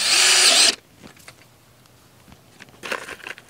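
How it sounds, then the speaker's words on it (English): A power drill drives self-tapping metal screws into an antenna section, one loud close burst of whirring followed by a quiet pause and then a second, shorter spell of drilling and handling noise. "just using these self-tapping metal screws and putting a couple of these in each section to hold them secure"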